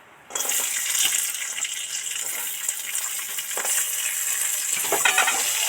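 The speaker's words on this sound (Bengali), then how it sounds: "সবার আগে এই কাজু কিশমিশটা ঘিয়ের মধ্যে ভেজে নেবো" Cashews and raisins frying in ghee on a low flame, a bright crackling sizzle that starts abruptly and carries on steadily, with scattered pops and faint utensil taps, no voices.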